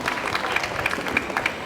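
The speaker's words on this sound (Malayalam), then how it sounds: "നല്ലൊരു കൈയടി കൊടുത്ത് നമ്മുടെ പ്രിയപ്പെട്ട സിസ്റ്റേഴ്സ് നമുക്ക് സ്വാഗതം ചെയ്യാം" Audience applause at a school annual day welcoming the sisters, a steady patter of many hands clapping at moderate distance with no talk over it.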